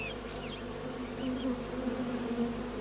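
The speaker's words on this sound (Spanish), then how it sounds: "Las abejas que regresan a casa son examinadas atentamente por las centinelas" Honeybees buzz at a busy hive entrance, a dense steady drone from many insects close by, with individual bees whining past now and then.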